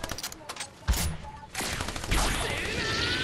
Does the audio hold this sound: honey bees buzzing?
no